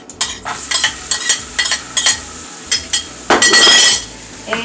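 Onions dropped into hot oil in a home kitchen pan for a clams and vegetable spaghetti dish, with a burst of loud sizzling and repeated clinking, scraping stirs of a utensil against the pan, close up.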